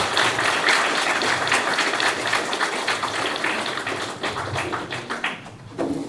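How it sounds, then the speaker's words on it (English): An audience breaks into a steady, dense round of applause, many hands clapping together at close range for about six seconds, with a brief dip near the end before it swells again. "join me in toasting them now with a round of applause"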